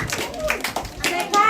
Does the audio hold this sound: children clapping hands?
yes